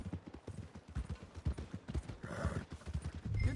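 Horse hooves clip-clop at a steady trot in Red Dead Redemption 2, a rhythmic run of close, dull thuds that carries on through the whole stretch, with a louder burst of hoofbeats near the end.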